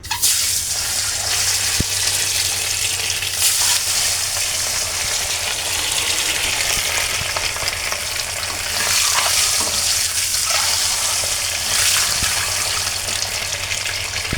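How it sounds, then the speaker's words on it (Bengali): Eggs fry in hot oil in a pan, giving a loud continuous sizzle and crackle with occasional stirring scrapes and no voices. "এখন আমি ডিমগুলো ভেজে নেব"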